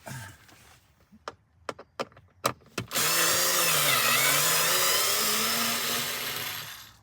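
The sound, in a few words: Parkside cordless power screwdriver removing screws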